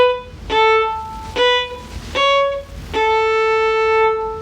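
Violin practising finger pattern 1A, 1, 2A: four separate bowed notes, each starting with a sharp attack and held briefly before a short break, played slowly and clearly with no talking.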